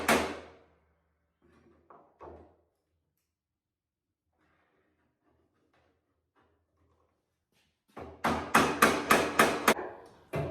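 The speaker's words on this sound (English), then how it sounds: "all you're going to do is beat it with the hammer" A hammer strikes a spot-welded door track bracket on a Cherokee XJ with a quick run of about seven sharp metallic blows near the end, after a few scattered clanks and knocks with silence between.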